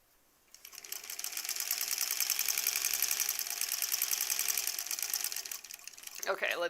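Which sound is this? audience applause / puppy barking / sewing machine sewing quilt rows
sewing machine sewing quilt rows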